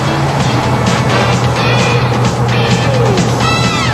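A 1992 GMC Typhoon runs at about 100 mph through the turns of a race track, its engine a constant loud roar blended with wind and road noise, with brief tire squeal toward the end.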